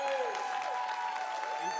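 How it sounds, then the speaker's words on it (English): An audience at a school board meeting applauds a group of young women, a steady wash of clapping over nearly two seconds, with cheers and voices mixed in. "Can we give these ladies a round of applause?"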